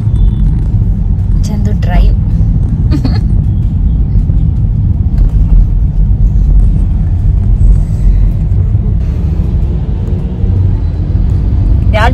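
Steady low road rumble from inside a car driving to a movie, continuous and close, with people talking over it throughout.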